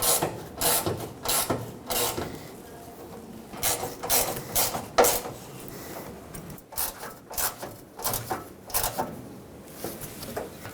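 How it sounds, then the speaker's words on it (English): A ratchet wrench tightens 10 mm mounting nuts on the valance panel of a 2007-2014 Chevrolet Silverado 2500HD, giving repeated bursts of close, rhythmic clicking with short pauses between strokes. "Let's get those two mounting nuts on, 10 millimeter in size. All right, let's tighten up all of these."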